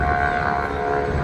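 Boeing PT-17 Stearman biplanes taking off at a Duxford air display on a windy day, a steady droning engine hum with a tonal whine, continuous over a brief moment.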